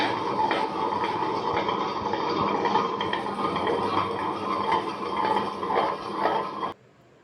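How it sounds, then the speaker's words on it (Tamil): A wet grinder being washed out with water after grinding appam batter, a continuous loud rushing, churning wash with rhythmic swishing that stops abruptly near the end. "கொஞ்சமாக தண்ணி ஊற்றி ஃபுல்லாக வாஷ் பண்ணிக்கோங்க."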